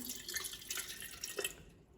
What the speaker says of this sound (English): you're going to pour in just a little bit of water into the can.